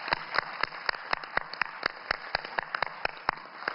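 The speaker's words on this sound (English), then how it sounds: "Let's give them a warm round of applause" A small audience applauds the ambassadors on a roundtable panel at a trade expo, with sparse individual claps in an irregular rhythm, fairly close and thin over a steady background tone.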